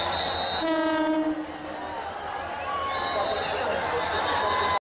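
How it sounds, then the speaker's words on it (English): A train sounds its horn, a loud sustained blast that cuts off, followed by the rumbling roll of rail cars and fainter horn tones, with voices in the background. "The fucking train can't move here."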